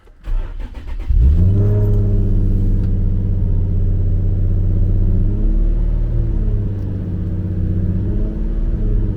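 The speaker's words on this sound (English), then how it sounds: "let's do a little start up and see how it sounds with a cold start" A 2007 Nissan 350Z Nismo engine cold-starts, cranking and firing up, then settles into a loud, steady idle rumble with a slight rise in revs.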